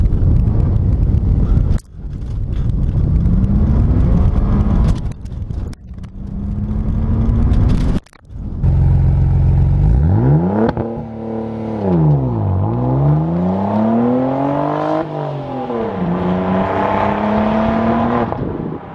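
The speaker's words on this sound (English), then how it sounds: "Foot all the way on the clutch, foot all the way on the gas," A Saab 9-3 Turbo X roars loudly as the clutch is dumped on a launch control start, with revs climbing through sweeping gear shifts and brief cuts between pulls.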